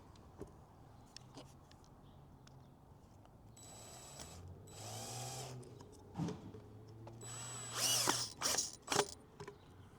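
A power tool drives screws while an LED barn light is mounted outdoors, with faint mechanical clicking and handling noise building into short whirring bursts near the end, quiet and close.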